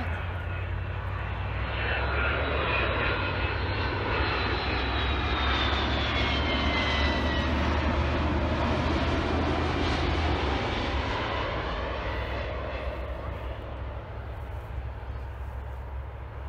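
An airplane comes in to land close by, a loud sustained engine roar with a deep steady drone and a high whine, building and then tapering slightly, watched from a parked car.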